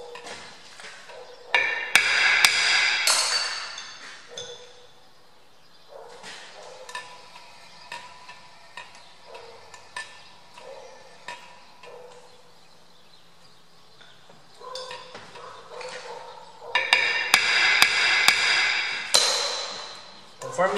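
A hammer taps a truck brake disc mounted on a lathe, giving bursts of sharp ringing metallic strikes at the start and end with quieter ringing between, and a voice speaking now and then.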